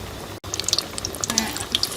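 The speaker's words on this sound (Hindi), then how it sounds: "इसमें हम टिक्कियाँ फ्राई कर लेंगे।" Sweet tikki patties frying in hot cooking oil, a close, steady sizzle with small crackling pops and a brief dropout near the start, with no one speaking.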